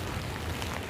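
Rain falls steadily on a coastal walking trail by the sea in Jeju, a dense, continuous patter with no talk over it.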